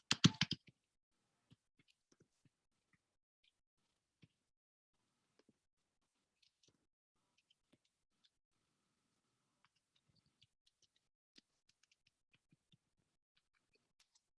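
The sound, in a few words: typing a server name on a computer keyboard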